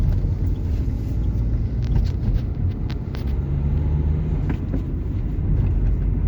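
A 2014 Dacia Logan MCV 1.5 dCi diesel cruises in third gear around 50 km/h, a steady low engine drone and road rumble inside the cabin with some wind noise, with no one talking.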